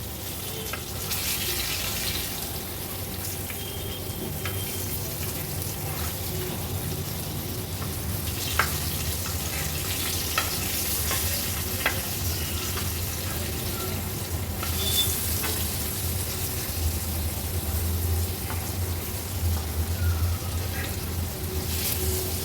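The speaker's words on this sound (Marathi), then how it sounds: "आता एक एक करून ह्या लेपांचे तुकडे मी पलटून घेते।" Pieces of sole fish shallow-frying in oil, turned one by one at medium heat: a steady, dense sizzle up close throughout, with occasional sharp clicks and spatters as pieces are flipped.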